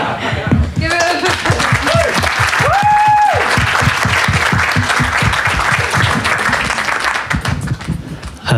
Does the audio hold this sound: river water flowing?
no